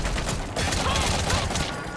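Gunfire from the stealth-action game Metal Gear Solid V: The Phantom Pain, a dense, steady burst of shots filling the whole two seconds with a brief dip partway through.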